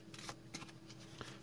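A deck of playing cards being shuffled, a quick series of soft riffling flicks, faint and close with no voices.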